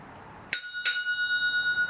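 Two quick rings from the handlebar bell of a Retrospec Beaumont 7-speed city bike, each a bright metallic ding that rings on and decays slowly in a quiet room.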